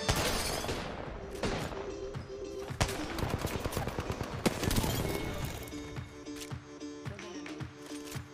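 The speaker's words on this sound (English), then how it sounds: "Why is he still shooting me?" Rapid gunfire bursts from the Apex Legends battle royale game, with dense automatic fire and sharp single shots crackling loudly and almost continuously, layered over in-game effects and music tones.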